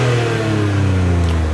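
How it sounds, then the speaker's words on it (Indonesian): Turbocharged engine of a BMW X2 revs loudly and close up, a steady sustained drone with clear harmonic tone that holds through the whole moment without talk. "kalian bisa dengerin nih suara mesinnya"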